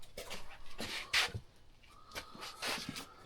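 Dogs panting and whimpering close by in a speed shop during a test and tune day, soft irregular breaths and short whines with faint shuffling, no talk.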